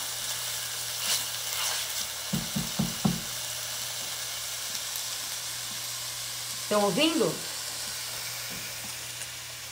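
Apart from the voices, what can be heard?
onion sizzling in pan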